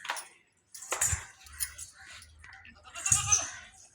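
Newborn female goat kid raised for a temple, bleating near the microphone in a couple of short, thin cries amid faint rustling and low background voices.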